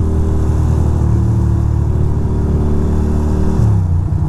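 Steady motorcycle engine drone while riding on a road on a clear winter day, loud and close throughout with a low rumbling tone and a slight shift in pitch near the end.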